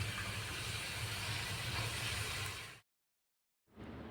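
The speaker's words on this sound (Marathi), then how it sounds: "आता आपलं तेल गरम झालेलं आहे आपण त्यात कमी गॅस करू आणि आपण याला टाकून यात टाकून घेऊ" Spinach shankarpale dough pieces sizzle in hot oil over low heat, a steady broadband hiss that cuts to silence partway through, then resumes faintly.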